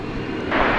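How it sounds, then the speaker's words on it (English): Frontier Airbus A321neo jet on Flight 4069 to Denver taking off at DFW Airport, a brief, steady broadband engine roar that swells louder partway through. "Taking off there, Frontier Flight 4069 to Denver, Colorado."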